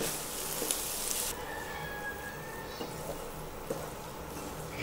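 A banana stem and prawn curry sizzles steadily in a pan after flour mixed with water is added, with a soft continuous frying hiss and a few faint stirring clicks.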